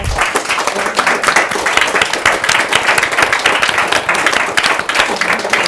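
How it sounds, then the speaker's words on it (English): An audience claps steadily in applause for a panel at a talk, a dense continuous patter of many hands heard close and loud from start to end. "I just want everyone to give a round of applause to our panel."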